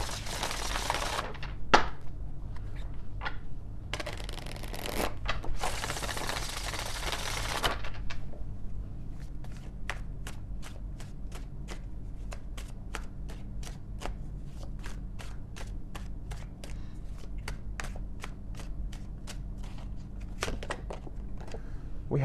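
Oracle cards are shuffled by hand in a tarot-style reading, first with a few loud riffled bursts and then a long run of fast, evenly spaced card snaps, close up and with no talking.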